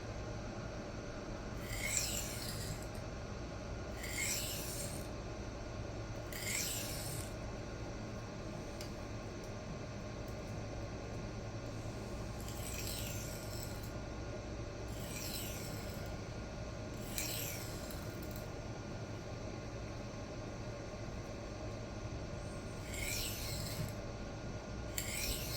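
A Kizer Baby knife in Crucible 154CM steel is worked back and forth on a diamond plate to fatigue the burr, giving a series of short, faint rasping strokes in irregular clusters over a low steady hum.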